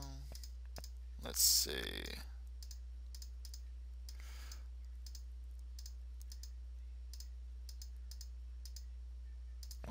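Computer mouse clicks sound while Notepad++ language and style settings are changed: a series of sharp, close, light clicks spread across the clip, with a brief spoken phrase early on and a soft steady hum underneath.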